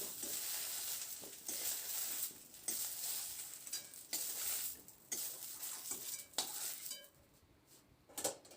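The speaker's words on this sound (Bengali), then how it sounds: "এরপর আমি ভেন্ডিটাকে নামিয়ে নিচ্ছি।" Fried okra is stirred and scooped from a pan: metal utensil scrapes and clinks against cookware over a light lingering sizzle, with the clatter easing off near the end.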